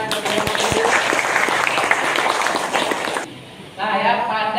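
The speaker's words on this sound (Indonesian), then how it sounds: "Beri aplaus untuk teman-teman kita." A classroom of students claps for their classmates, dense close applause that breaks off briefly and then resumes.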